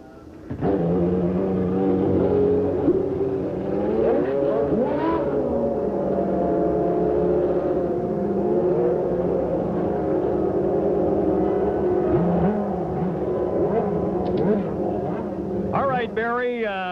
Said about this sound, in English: The cars are going out for a warm-up lap.